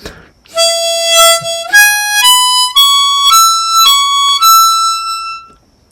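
Once more, a harmonica rises through the 'Going up to Hamburg' old-time phrase, about seven clear single notes in a steady stepwise climb, near and loud, with no voice over it.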